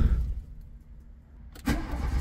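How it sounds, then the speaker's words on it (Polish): Car engine cranking and catching from fully cold in the morning, a quiet lull broken by a sudden loud start that settles into a steady idle with no throttle. "Zobaczę teraz rano na całkowicie zimnym jak odpali"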